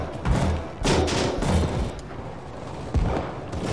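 Rapid bursts of gunfire from the video game Anthem pour into a creature, heard as loud, dense volleys with heavy impacts that pause briefly and then resume.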